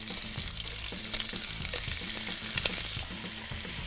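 Korean braised short ribs sizzle loudly in a hot pan right after being turned over, a steady, close frying hiss with small crackles and spatters and no talking.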